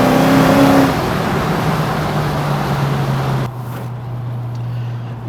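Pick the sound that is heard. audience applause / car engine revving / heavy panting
car engine revving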